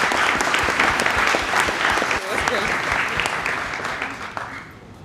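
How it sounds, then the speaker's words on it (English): An audience applauds loudly, a dense sustained clapping that holds for several seconds and then tapers off toward the end. "A round of applause for Fatuma."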